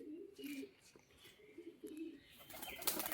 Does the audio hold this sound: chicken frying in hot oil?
no